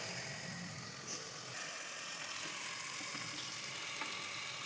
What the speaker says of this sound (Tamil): என் கணவர் அவர்கள் பொரிக்கிறாரு.